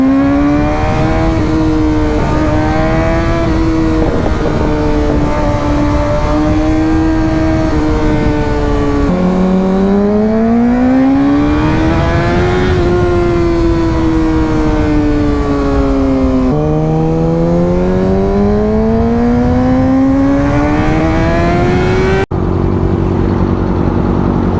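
Motorcycle engine droning steadily while riding in winter, its pitch rising and falling with throttle changes, loud and continuous throughout with wind noise, ending in a brief lower idle.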